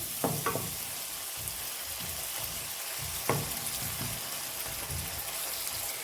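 Butter melting with a little oil in a pan for topping Uzbek chuchvara dumplings, heard as a steady close sizzle and crackle with a few brief scraping or stirring accents, with no voices.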